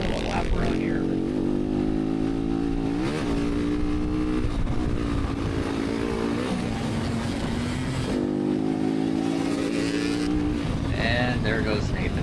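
Motocross race motorcycles roar past with rising and falling revs, their engines loud and continuous throughout, while someone talks over the racing.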